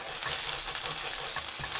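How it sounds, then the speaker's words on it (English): Fresh bay leaves dropped into hot oil for a methi chicken curry, giving a steady, dense sizzle and spatter that stays close and loud throughout. "bay leaves, when they're fresh and you put them into the oil, they spatter a lot"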